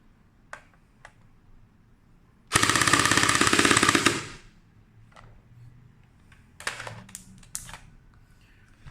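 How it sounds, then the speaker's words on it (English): A JingJi SLR CQB airsoft gun fires one loud full-auto burst of rapid, evenly spaced clicks lasting under two seconds, surrounded by scattered sharp clicks and handling noises in a quiet room. "let's give it a full auto burst and see what is the FPS."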